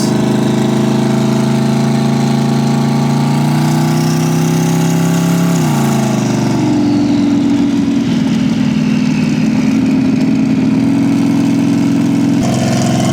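A car with a twin-turbo LS 5.3 engine drives along, its loud close engine drone rising in pitch, dropping abruptly as it shifts, then holding a steady rumble before a final change.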